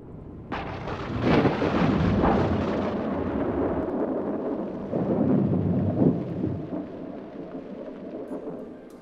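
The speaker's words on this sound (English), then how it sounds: "Thunderstorms come frequently during the summer in these high mountain valleys." Thunder cracks and then rolls long and heavy through a high mountain valley in summer during a storm in Yellowstone, a second rumble following midway before fading into the quiet of rain.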